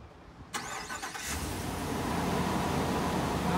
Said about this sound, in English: listen to this thing start up